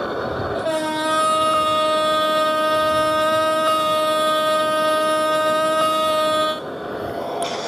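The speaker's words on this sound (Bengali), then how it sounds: "এটা হচ্ছে আইডল ওয়ানের হর্ন" A steady, loud train horn of a 6600 series locomotive in Trainz Simulator blares for about six seconds, rich and sustained, over a low rumbling background.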